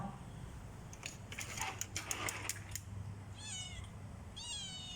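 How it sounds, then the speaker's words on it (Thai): A cat meows close by, two drawn-out falling meows in the second half, after a stretch of scratchy clicking and rustling over a low steady hum. "เฮ้ยแมว"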